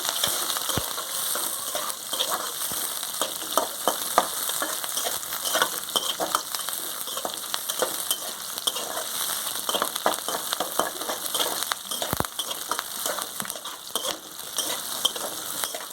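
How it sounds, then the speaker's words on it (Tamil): Shallots and red chilies sautéing in a pan for a Tamil kathirikai gothsu, a steady close sizzle and crackle with scattered stirring clicks running unbroken throughout, no talking. "ரெண்டு நிமிஷம் போதும் கலர் சேஞ்ச் ஆகிற வரைக்கும் நல்லா வணக்கி விடுங்க"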